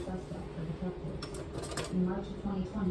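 A knife and other cutlery clinking against dishes in a home kitchen, a few light metallic taps and rattles close by, with a voice speaking over them.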